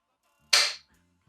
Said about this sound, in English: So let's hit the bolt release.